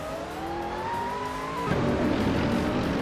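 Race cars in a racing video game, including a 2003 Subaru Impreza, drone with a steady rising engine whine that shifts abruptly partway through into a rougher, louder roar, with no talk.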